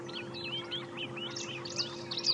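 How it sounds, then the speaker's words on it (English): Various wild birds calling at sunrise during a safari drive, faint chirps and tweets scattered over a steady low hum, fairly distant. "You can hear the different sounds of bird calls."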